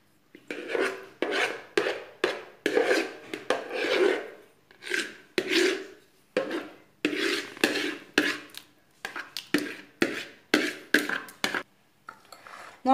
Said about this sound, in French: Donc j'ai étalé la sauce tomate.